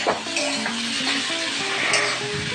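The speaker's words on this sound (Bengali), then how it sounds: "আবারও এইভাবে নাড়াচাড়া করব।" Snake gourd fries in a pan while a spatula stirs it, with steady close sizzling, scraping strokes and light clinks of utensil on metal.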